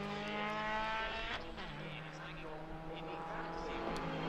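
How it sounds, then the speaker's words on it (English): A big TVR Tuscan race car heads toward the hairpin during a Mod Sports Championship race, its engine a loud sustained roar that shifts pitch as it slows and powers on, with commentary running over it. "you got Stuart Robb in the background coming around towards the hairpin in the big TVR Tuscan"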